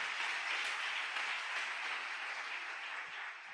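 A church congregation applauds the Lord with sustained, dense clapping from many hands, steady and fairly loud throughout, tapering slightly at the end.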